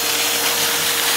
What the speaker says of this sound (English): I'm using Clint's industrial Henry vacuum because it really does the job